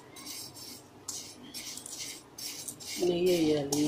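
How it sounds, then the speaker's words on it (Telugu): Semiya vermicelli roasting and being stirred in ghee in a pan for semiya upma: a steady scraping rasp of a spatula against the metal pan, with a brief burst of voice-like tone near the end. "సేమియా ఫస్ట్ వేసుకున్నాను, ఇట్లా వేయించుకోవాలి."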